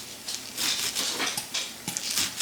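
Turkey meat and greens being stirred in a pot, with a spoon scraping and tapping against the pot in quick, uneven strokes. The sizzle stays close and continuous, with no talk.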